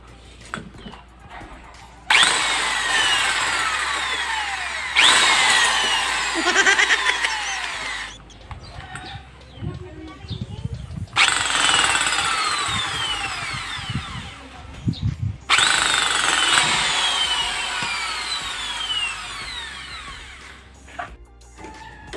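A power drill spinning a valve during engine valve lapping whirs in several long bursts, spinning up and winding down, with short quieter gaps and faint clatter between runs.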